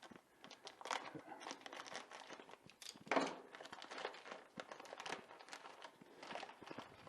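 Cardboard and plastic packaging of a VMAR (Lion Model Co.) aerobatic RC airplane ARF kit being cut open and pulled apart, with near, steady crinkling, rustling and tearing and a sharper crunch in the middle.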